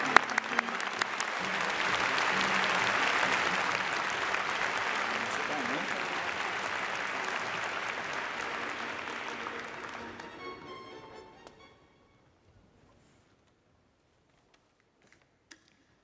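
Audience applause for mathematics graduates at a university Commemoration Day ceremony for the Faculty of Natural Sciences: a loud, dense, sustained clapping from a large crowd lasting about eleven seconds, then fading out to near silence with a few stray claps.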